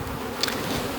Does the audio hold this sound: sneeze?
no